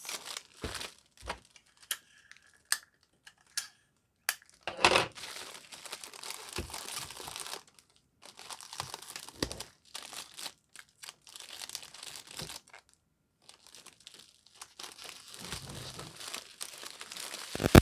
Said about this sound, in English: Okay, we're going to tape the bottoms.